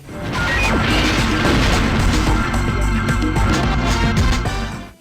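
Game audio from the N64 title Blast Corps, with loud, continuous crashing and smashing as buildings and obstacles are torn apart. Booming impacts pile up for several seconds without pause.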